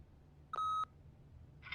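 Single clean electronic tone, loud and steady for about a third of a second, from an answering machine in The Wolf Among Us, followed by a faint short electronic blip in a quiet room.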